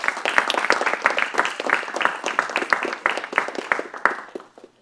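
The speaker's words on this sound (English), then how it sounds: "let's actually start this by giving Soumya a warm round of applause" Warm audience applause for a guest speaker, a lively run of close, uneven clapping from a modest crowd that stays strong, then tapers off near the end.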